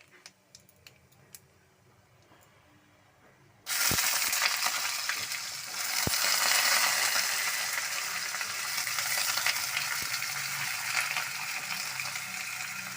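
Panch phoron, bay leaf and dried red chillies hit hot oil for a drumstick chachchari; after about four quiet seconds a loud, steady sizzle bursts up and keeps crackling close by.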